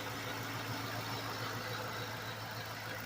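A 2008 Ford Mustang Bullitt, just fitted with new timing chains, idles steadily with a low, even engine hum and a faint ticking. No voices are heard over it.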